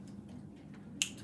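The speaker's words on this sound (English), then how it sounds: "When I snap my fingers" A teacher's single sharp finger snap in a classroom, crisp and close, cutting through a low background hum.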